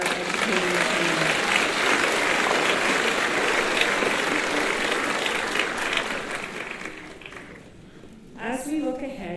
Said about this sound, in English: Another round of applause for our educating team.